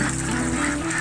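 Ducks on a duck farm pond quacking steadily in a dense, continuous flock chorus, close and fairly loud, with no talking.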